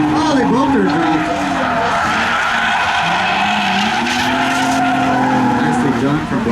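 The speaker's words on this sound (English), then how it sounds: "Mesker, have you ever seen your car drift like this?" A Nissan 370Z Nismo drifts with loud, sustained tire squeal and skidding over a roaring engine, close and continuous, with voices talking over it.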